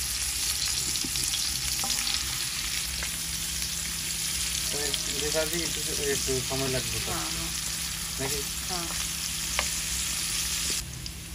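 Onions frying in a pan on a gas stove for a Bangla fish-and-potol curry, a steady close sizzle running throughout, with a brief spoken question partway through.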